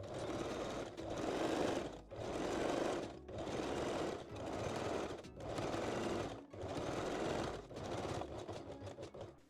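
A sewing machine stitches fold over elastic onto a foam cup bralette underarm, running in about seven close, rhythmic bursts separated by short pauses.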